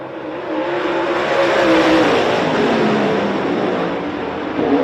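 Super late model race cars roar past together at a dirt speedway heat race, a loud, dense wall of engine noise that swells and holds for several seconds with overlapping revving and no talk.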